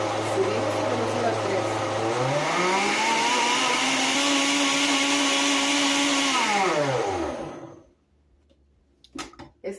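A blender whirring with hot green salsa inside, loud and steady, rising in pitch as it steps up from speed 2 to speed 3, then winding down and stopping, followed by a few light clatters.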